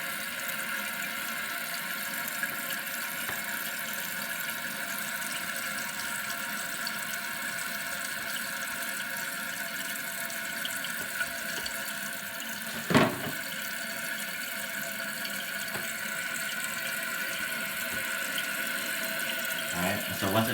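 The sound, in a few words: toilet tank refilling with water after replacing Kohler flush valve seal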